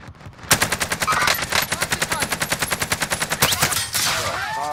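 Rapid automatic gunfire in Call of Duty Warzone, a dense rhythmic burst of close shots lasting several seconds, briefly pausing, then another burst.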